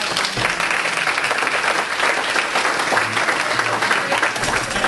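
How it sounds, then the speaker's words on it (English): A workshop audience at a small business expo bursts into sustained, dense applause, loud and continuous for the whole stretch with faint crowd murmur underneath. "So big round of applause."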